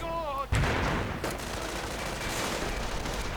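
Machine gun and mortar fire from a WWII strategy video game, a sharp blast followed by dense rattling fusillade and distant booms, with a low voice under the battle noise.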